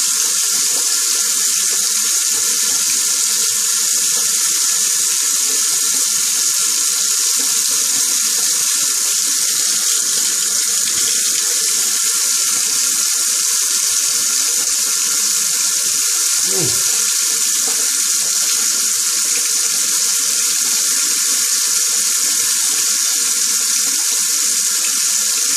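Tap water runs steadily from a faucet into a sink during a shave rinse, a constant close hiss throughout, with one brief knock partway through.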